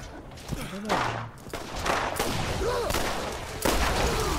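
Gunshots from the video game Borderlands crack out in several scattered bursts, fairly close and sharp, amid game noise and other clutter.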